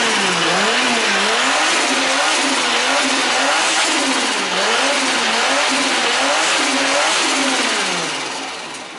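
Nissan Skyline sedan drift car fitted with a Supra engine, revving repeatedly in rising and falling waves, loud and close, with no talking.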